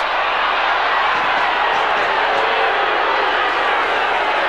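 Football crowd at Victoria Park during a 1996 AFL match between Collingwood and Fitzroy, a loud, continuous roar of a large crowd, dense and unbroken with no distinct peaks.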